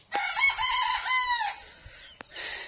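A local free-range rooster at a home with pigeons lets out one long, loud, close crow, followed after a short pause by a brief burst of clucking.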